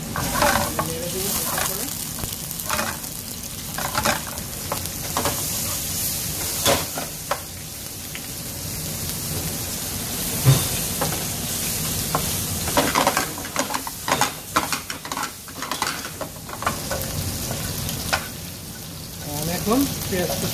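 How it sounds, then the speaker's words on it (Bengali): Chopped ginger, garlic and chillies fry loudly in a pan as a constant close sizzle and hiss, with a spoon or spatula repeatedly scraping and stirring through them. "আরেকটা চুলায় আমি আদা রসুন কুচিগুলো দিয়ে দেব এবং সাথে মরিচেরগুলো"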